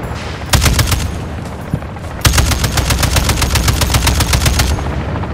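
Rapid automatic gunfire in the multiplayer shooter Call of Duty: Modern Warfare II comes in two loud bursts, a short volley and then a longer sustained stream of rounds after a brief pause, with no voices over it.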